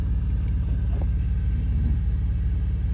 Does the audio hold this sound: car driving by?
yes